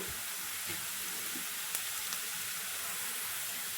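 Onions and cloves frying in a pan for chicken masala, giving a steady, close sizzle and hiss throughout with a couple of faint clicks and stirring sounds, no voices.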